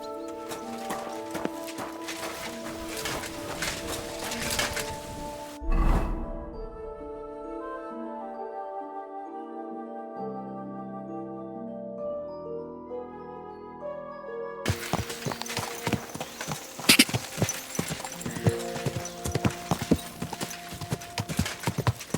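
A horse's hooves clip-clopping on the ground in Kingdom Come Deliverance 2: rhythmic, fairly close hoofbeats at the start, a quieter stretch of sustained musical tones in the middle, then the hooves return, louder and busier.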